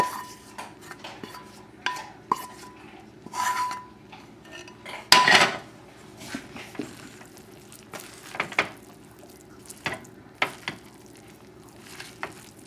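Utensils scrape and clank against a pot or pan while brown rice, garbanzo beans, scallions, broccoli and peppers are stirred together, with irregular metallic knocks and a faint sizzle beneath, close and moderately loud, with no talking.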